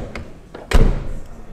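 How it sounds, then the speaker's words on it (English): The front door of a Polestar 3 car shuts with a single solid thunk, close and fairly loud, after a couple of faint taps, with nothing else heard around it. "The sound of the door, it doesn't have a Volvo-ish sound anymore."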